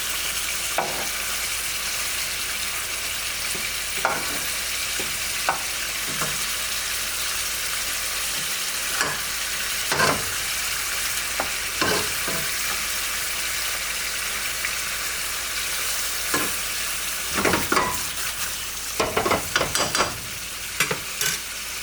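Chicken pieces for hot chicken rezala frying steadily in a pan, with a continuous close sizzle broken by repeated scraping and clattering as the pieces are turned several times.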